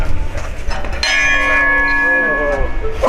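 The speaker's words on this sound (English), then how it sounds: "No, that's a really loud gong." A loud gong is struck once, its bright metallic ring swelling and sustaining with shimmering overtones as it slowly fades, with a voice faintly heard before the hit.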